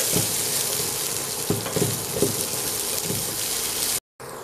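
Onions sautéing in a pan with a little powdered salt, a steady broadband sizzle with soft stirring knocks, close and loud, then a sudden brief drop to silence near the end.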